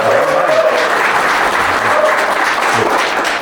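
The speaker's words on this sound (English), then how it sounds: "The applause sign up there was kind of a cue." A large studio audience claps steadily and loudly at a live podcast taping, a dense continuous wash of applause that fills the room.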